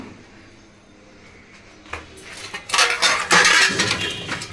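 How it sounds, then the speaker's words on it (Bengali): Dishes, plates and pots being washed in a home kitchen, quiet at first, then a run of close, loud clinks and clatters of crockery and metal knocking together. "আচ্ছা, থালা বাসন ধুয়ে নিই"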